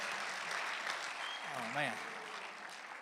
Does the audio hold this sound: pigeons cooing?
no